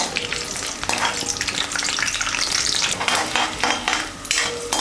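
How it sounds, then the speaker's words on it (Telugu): A Telugu tempering of urad dal, mustard seeds, cumin, dried red chillies and curry leaves sizzles in a pan while a spoon stirs it, with busy crackling, popping and occasional metal scrapes throughout. "పోపుని కలుపుకుంటూ ఉండాలి."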